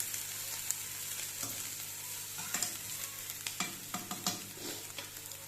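Green chillies fry in oil with a steady, close sizzle, while a spoon scrapes and stirs the pan in several short knocks and clatters.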